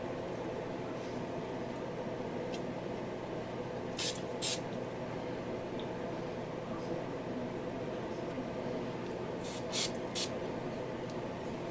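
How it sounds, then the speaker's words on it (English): A can of spray glue gives a steady, continuous spray hiss throughout, with a couple of short, sharp clicks along the way, while building a corpse prop. "I'll secure these in place with the spray glue."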